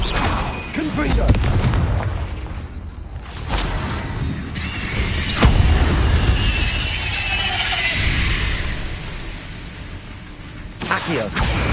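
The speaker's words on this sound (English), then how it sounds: "Confringo." An explosive spell cast in the Hogwarts Legacy video game lands as several loud booming blasts with crackling bursts and debris, spread across about twelve seconds. A big hit comes near the middle and smaller bangs follow later.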